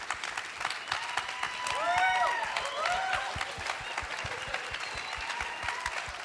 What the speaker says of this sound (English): big, huge round of applause for the bravery and for the sacrifice